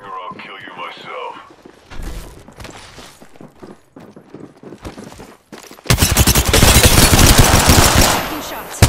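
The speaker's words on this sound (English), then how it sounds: "Taking shots." Gunfire in a battle royale video game, scattered shots under game voice lines, then a loud sustained burst of rapid automatic fire for the last few seconds.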